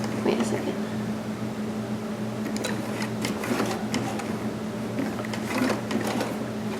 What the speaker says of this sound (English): And I'm just going to hand crank this.